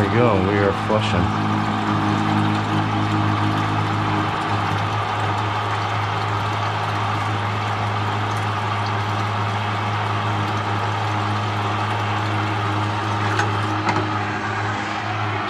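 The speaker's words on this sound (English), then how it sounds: "Hopefully my pump lasts that long. It doesn't sound too healthy." A small pump runs continuously while flushing a Navien tankless water heater, a steady droning hum with a strained, slightly rough tone, close and constant throughout, with a brief pitch swoop at the start.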